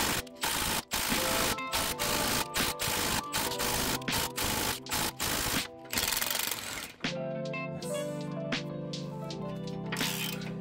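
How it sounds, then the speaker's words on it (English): An impact wrench hammers at a stubborn exhaust bolt on a Toyota Sequoia/Tundra 4.7 V8, with loud, close, repeated rattling bursts separated by short pauses, then a quieter stretch with ringing tones. "This one's giving me hell, so I'm gonna impact it."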